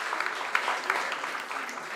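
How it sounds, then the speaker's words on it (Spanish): Audience applause at a school graduation party for Colegio Nuestra Señora de la Merced, a steady moderate patter of many hands with a few sharper claps, heard from some distance in a large hall. "un fuerte aplauso para el Colegio Nuestra Señora de la Merced"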